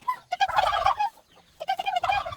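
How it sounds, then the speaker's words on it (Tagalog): Turkeys gobbling and chickens clucking on a farm in the early morning, two close bursts of warbling calls separated by a brief lull. "Chickens? Chickens. Chickens. Turkeys."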